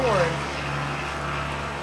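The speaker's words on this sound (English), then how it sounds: "Big old truck's going by." A big truck passes nearby, a steady, fairly loud low engine rumble with a droning hum that holds for the full two seconds, with no talking.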